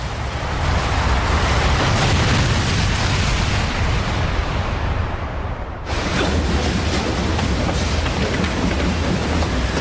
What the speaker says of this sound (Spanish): Me ha parecido una explosión